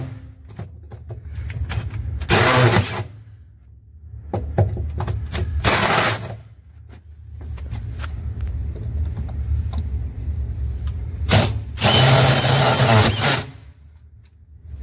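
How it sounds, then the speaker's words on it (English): Drilling a bolt hole through a steel truck frame with a good drill bit, for a 5th wheel hitch install, heard as three long loud whining bursts with lower rumbling between them. "I'm going to drill this hole and I'm going to drill this hole"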